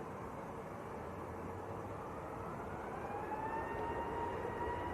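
An EasyJet airliner rolls for takeoff at Manchester Airport, its engines a steady distant roar with a rising whine emerging toward the end.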